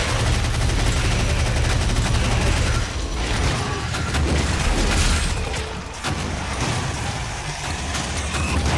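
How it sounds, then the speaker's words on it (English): Rapid gunfire in Quake, dense and continuous over a loud mix of game effects, with bursts of shots running throughout and no one talking. "The gun kind of fires just as fast, it feels like."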